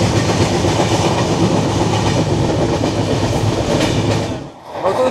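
A passenger train on the Konkan railway between Mumbai and Goa rolls along with a loud, continuous rumble and rhythmic wheel clatter, heard from on board, dipping briefly near the end before resuming.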